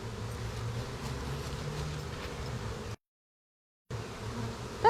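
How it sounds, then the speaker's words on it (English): Honey bees swarm a hive frame that holds no comb, giving a dense, steady low buzz close by, briefly cut to silence for about a second before the humming resumes. "That's just a lot of bees."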